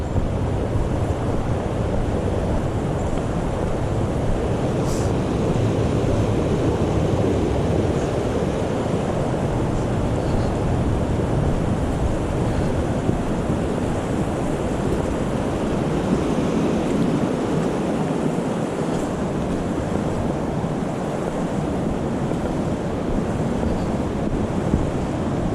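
Rushing water of a river running beside a forest trail between Cucumber Gap and Little River, a steady broadband wash that holds close and constant throughout with no voices.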